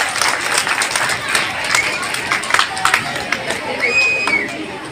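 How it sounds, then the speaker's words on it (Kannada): An audience applauds at a school Kalotsava 2025 cultural event, with sustained dense clapping and crowd murmur over five seconds, fairly loud and close. "ಜೋರಾಗಿ ಚಪ್ಪಾಳೆ ಬರಲಿ."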